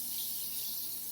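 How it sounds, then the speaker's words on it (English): Cold water running from a kitchen faucet into a container, a faint, steady hiss of flowing water with no pauses. "Now I'm going to turn my faucet handle the other way"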